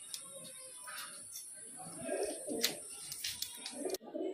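Highflyer and low flyer Giribaz pigeons, including a male, coo in soft repeated phrases close by under a voice, with rustling and faint chirps around them.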